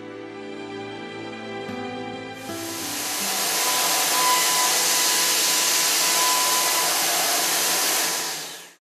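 Milling machine making a finishing cut in 5052 steel at 6,500 feet per minute, a steady hum that jumps into a loud broadband hiss partway through, holds for several seconds and then cuts off.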